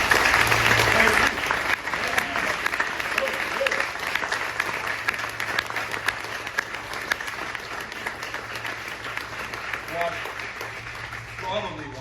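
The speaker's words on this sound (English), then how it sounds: "I'd like to have a rousing round of applause for..." An audience at a star-gazing festival gives sustained applause, a dense, steady wash of clapping that carries on for several seconds and then gradually thins out.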